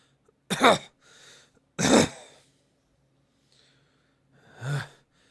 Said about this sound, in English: You hear a cough from behind you.